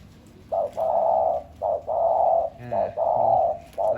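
A decoy zebra dove coos close by in a quiet setting, giving four rhythmic bursts of soft, rolling trilled coos separated by short pauses, with no talking.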